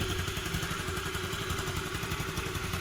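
A Pulsar motorcycle engine running with its silencer pipe cut, giving a steady, close, rough idle with a constant clattery exhaust rumble throughout.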